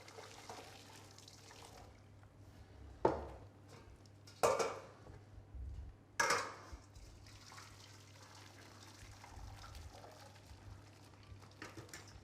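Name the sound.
draining cooked cauliflower water from pan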